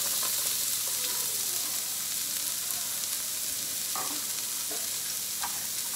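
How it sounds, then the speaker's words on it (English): Onion sizzling as it is stirred in a hot frying pan for chicken fried rice, a steady close crackle with a few utensil scrapes and no talking. "we're gonna add our onion"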